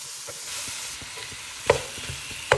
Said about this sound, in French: Donc là, c'est mes oignons, mes carottes que j'ai hachées. Je vais mettre avec de l'huile d'olive